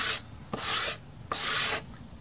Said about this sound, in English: the plaster sands really quickly